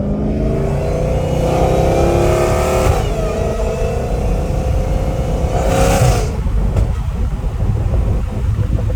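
An 850 hp Dodge Challenger Hellcat Redeye engine revs loud and close, its pitch climbing steadily toward redline, dropping back briefly, then surging again in a harsh, sustained roar.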